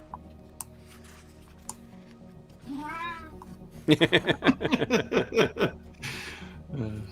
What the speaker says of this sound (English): Your cat sounds hilarious